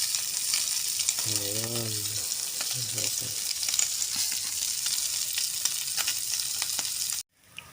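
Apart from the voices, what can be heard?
food sizzling while frying in a pan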